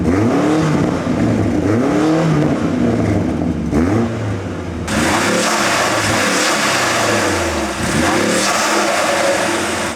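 A BMW F90 M5 with a Remus exhaust and upgraded intake revs hard nearby, its engine note sweeping up and down in repeated surges with a deep, raspy roar and no talking.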